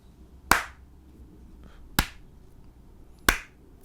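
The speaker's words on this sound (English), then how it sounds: "Is you hear slow, loud claps." Three slow, loud, sharp hand claps spaced over a second apart, each ringing briefly in a quiet room during a tabletop role-playing session, played for dramatic effect.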